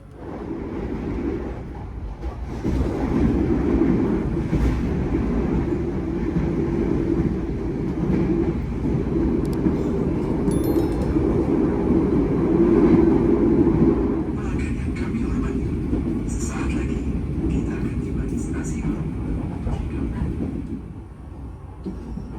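Inside the KA Sawunggalih Premium train at Haurgelis station, a continuous rail rumble and rolling clatter fill the carriage at a steady level. Faint voices surface now and then beneath it.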